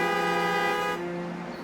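Vehicle horn in urban Nigerian traffic, a single sustained honk, loud and close, about a second long before fading into background traffic noise.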